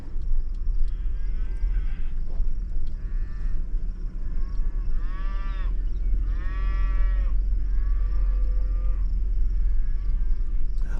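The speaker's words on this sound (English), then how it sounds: "What is that? Is that a cow?" Several cows on open pasture land moo in long drawn-out calls, some near and some farther off, over a constant low engine rumble from a vehicle on an Oregon backroad.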